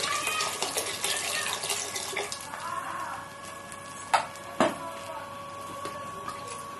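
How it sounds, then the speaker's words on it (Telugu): Water poured into a pot of rice for bagara rice, a steady close splashing pour that eases off midway, followed by two sharp knocks. "ఇప్పుడు 2 గ్లాసులు రైస్ తీసుకున్నాను కాబట్టి నేను 3 గ్లాసులు వాటర్ పోస్తున్నానండి"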